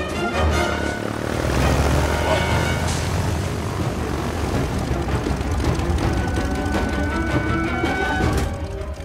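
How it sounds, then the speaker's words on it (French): A propeller airplane flies in a movie scene, a loud continuous droning engine roar with churning rumble that stays close and steady throughout, with no clear talk over it. "Un avion?"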